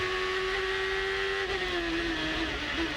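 Onboard a Champ Car race car driven by Matt Halliday at the Houston street circuit, a high-pitched engine whine holding steady then dropping as it downshifts, loud and continuous.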